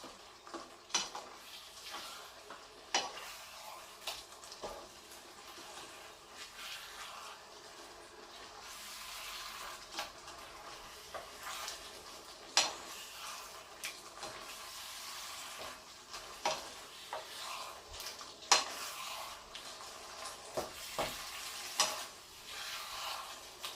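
Chicken curry mixture stirred in a pan, with soft scraping and clinking of a spoon against the pan over a faint sizzle. Sharp taps and scrapes come irregularly, quiet and close, with no speech.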